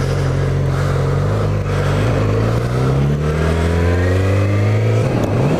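A motorcycle engine on new tires revs up and down loudly and close, climbing in pitch through repeated accelerations with steady gear changes, droning continuously without talk.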